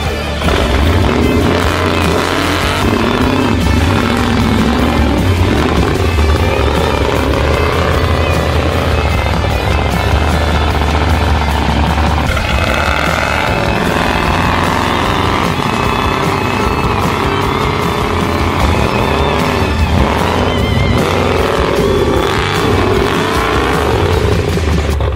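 A modified Ford Ranger pickup ploughing through a pond while mudding, its engine roaring loud and continuous with sloshing water and splashing throughout, revving and straining without pause.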